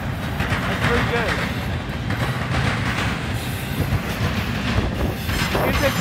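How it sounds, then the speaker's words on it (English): A Norfolk Southern intermodal piggyback freight train rolls past close by on a cold day, a loud, steady rumble of wheels and cars with clattering, brief squeals and a voice speaking under it. "Yeah, piggyback train."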